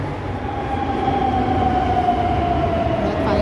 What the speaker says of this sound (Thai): ขบวนที่พวกเราจะไปมาแล้วนะคะนั่งรถไฟใต้ดินที่เมืองมาดริดประเทศสเปนค่ะ